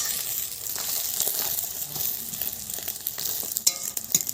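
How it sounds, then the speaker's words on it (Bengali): An egg frying in oil in a pan as it is rolled up, a soft continuous sizzle with occasional light scraping and tapping of the utensil, no talking. "এবারে ডিমটি গুটিয়ে নিচ্ছি"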